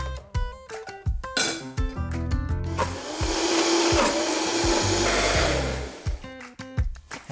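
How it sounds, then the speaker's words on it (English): A kitchen blender whirs through a yogurt curry base in one loud sustained run, framed by short bursts of music before and after. "It's going to be the perfect smooth base of this curry. Just straight into our blender."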